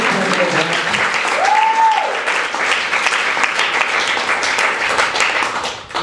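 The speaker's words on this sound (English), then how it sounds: "Can we just get a round of applause?" An audience applauds at a poetry reading in Jefferson Market Library, a full, steady round of clapping from a roomful of people, with a brief voice cutting through early on.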